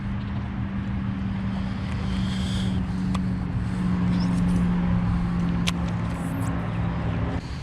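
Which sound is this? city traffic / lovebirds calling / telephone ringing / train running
city traffic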